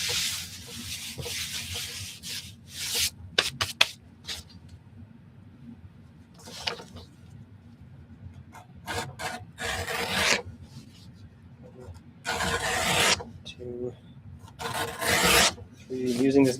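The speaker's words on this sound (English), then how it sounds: "Using this gouge to prime the surface for the edger so that it can get a better grip." Gouge scraping a surface by hand to prime it, giving repeated harsh rasping strokes in bursts of a second or two, close and fairly loud over a low background hum.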